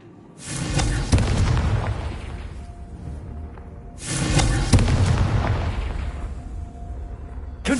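Two loud, booming blasts from the Confringo fire spell in Hogwarts Legacy, each a sudden burst about three seconds apart followed by a long rumbling decay, with no talking over them.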